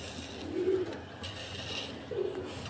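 A wild pigeon coos twice, low and throaty, with a pause between calls, over a quiet outdoor background hum.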